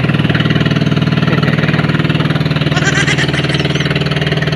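An old boat engine runs steadily near the microphone, a loud, even, rapidly pulsing putter that keeps a constant idle rhythm throughout.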